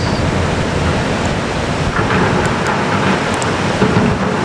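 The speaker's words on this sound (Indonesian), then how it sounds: "hujan mulai turun deras." Steady, dense hiss of heavy rain pouring down at an outdoor repair worksite in Srandakan, continuous and loud with no voices, a few faint higher ticks scattered through it.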